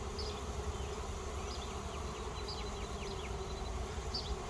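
Honeybees fanning at the front of their hives to cool them make a steady, dense buzz that runs unbroken throughout. Individual bees whine past now and then, all over a low rumble.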